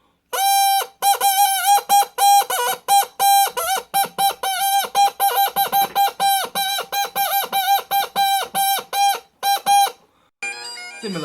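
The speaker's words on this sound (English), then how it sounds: "Itself to make the music is made by a double reed. Basically very similar to one of those duck callers." A cheap, flimsy bagpipe's double-reed chanter, blown like a duck call, sounds a long run of loud, bright honking notes in rapid choppy bursts, closing with a brief squeal after a short gap; no voices.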